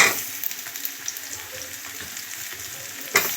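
Garlic sautéing with onions in a pan, a steady bright sizzle with light stirring scrapes and a sharper clatter near the end.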